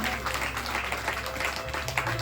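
A church congregation clapping loudly together, a dense, continuous wash of applause that fills the short moment, with a faint voice or music tone underneath.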